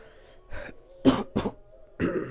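A run of several harsh coughs and throat clears from someone with a cold, close and fairly loud, in short bursts with brief gaps between them.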